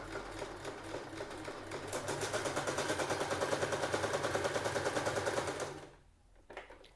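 Household sewing machine stitching along a fabric edge, a steady rapid mechanical rattle that builds slightly and runs for about six seconds before stopping abruptly, leaving a few faint clicks.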